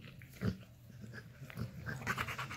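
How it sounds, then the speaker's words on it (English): A dog pants and breathes close by in short rhythmic huffs, with a snuffle and a few mouth noises, fairly faint overall. "That's my dog."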